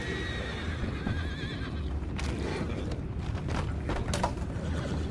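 Horses whinny and neigh over steady ambient noise in Red Dead Redemption 2, with some hoof clops and creaky movement in the background.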